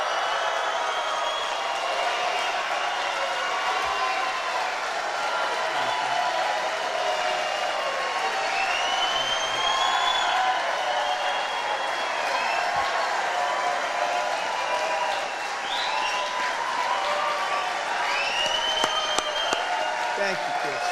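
Large crowd cheering and applauding after a presidential campaign announcement speech, a dense steady roar of clapping and shouting that holds at full level throughout, with scattered whistles rising above it.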